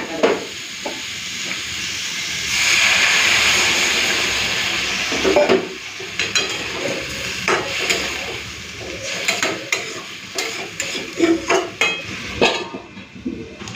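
Vegetable curry in a pan hisses and steams loudly after water is poured in, a broad, steady sizzle that settles into bubbling with scattered clatters and stirring sounds.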